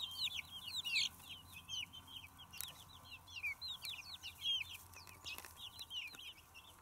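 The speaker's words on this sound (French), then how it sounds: "Et voici une tranche de vie de nos Brahmas dans leur nouvel environnement." Brahma chicks in their new enclosure give a constant stream of soft, high chirps and little clucks, faint and fairly close, with no talk.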